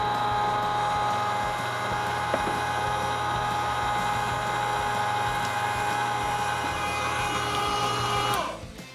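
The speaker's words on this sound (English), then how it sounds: "We're going to start with our 3/8 inch plate, which I have loaded up on our grinder already." An electric meat grinder pushes sausage meat through a 3/8 inch plate, giving a steady, loud motor whine with a low hum that holds evenly for about eight seconds before winding down at the end.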